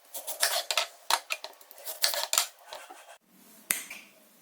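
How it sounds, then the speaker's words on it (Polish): Red onion being chopped into small dice on a board, a quick series of sharp knife taps in irregular bursts, close and fairly quiet, ending with a pause and one last cut. "Następnie musimy posiekać cebulkę czerwoną w drobną kostkę."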